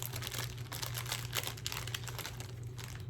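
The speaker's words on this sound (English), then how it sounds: "this plastic bag that it comes in" A plastic bag of diamond painting drills crinkles and rustles up close in quick, irregular bursts, soft and continuous, with no talking.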